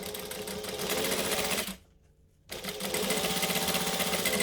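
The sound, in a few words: sewing machine stitching a fabric wallet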